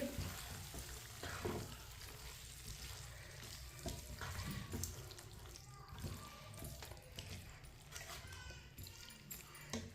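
A pan of potato curry gets stirred after fresh coriander is added, with the stove just switched off, giving a soft scraping and gentle fading sizzle, close and faint, with scattered small clinks.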